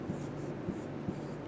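Soft scratchy strokes of writing on a board, three faint evenly spaced scrapes over a low steady room hum.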